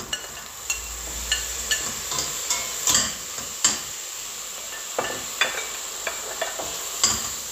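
Cooked boiled meat goes into a pan of white beans in tomato sauce and is stirred, giving a low sizzle with regular sharp spoon-on-pan clanks about every half second, close and fairly quiet.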